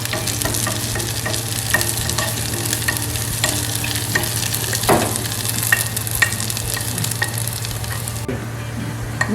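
Chopped shallots and curry leaves frying in hot oil for a Thrissur-style fish curry with coconut milk, a steady close sizzle with occasional light stirring scrapes, ending in a sudden drop.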